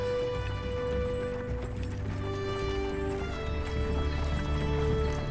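Horse hooves clop steadily as a horse-drawn chariot rolls along, with an occasional whinny over a constant background of music or ambience, no speech.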